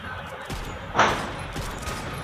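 A single sharp sniper rifle shot rings out in a mobile shooting game, one loud crack near the middle over a steady bed of game ambience and low noise.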